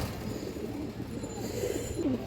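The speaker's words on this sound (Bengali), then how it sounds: "এই যে দেখেন বিগ সাইজের এক পেয়ার মুসলদম কবুতর" A big pair of Muslodom pigeons coo softly and repeatedly, low rolling calls that swell slightly near the end, close by with no talk.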